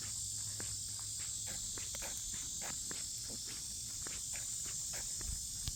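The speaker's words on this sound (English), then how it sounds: "And I can hear cicadas" A constant high insect drone of cicadas fills the background on a quiet dead-end street, with soft irregular footsteps crunching underneath throughout.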